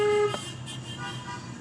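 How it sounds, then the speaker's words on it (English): A car horn honks once in a short burst near the start, a steady tone that cuts off abruptly and leaves quiet road noise from the car interior. "Your horn doesn't sound bad."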